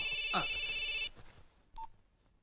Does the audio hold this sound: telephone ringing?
yes